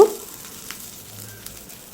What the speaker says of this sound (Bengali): তেল গরম হয়ে গেলে দিয়ে দিচ্ছি ফ্যাটানো ডিম